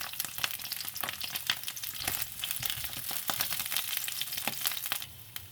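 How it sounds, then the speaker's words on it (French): Sausage frying in added oil in a pan over medium heat, a close, continuous crackling sizzle dotted with sharp pops and spatters, heard alone without any talk. "Je vais rajouter de l'huile. Pour faire cuire le saucisse,"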